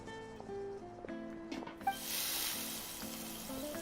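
Mushrooms sizzle in a hot cast iron pan in a video game, a steady hiss of frying that swells midway and continues over soft background music.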